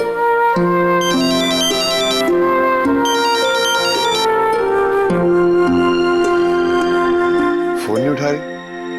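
Unanswered phone ringing: a repeating electronic ringtone melody plays in two bursts over steady background music, fairly close and clear, ending with a short swooping tone.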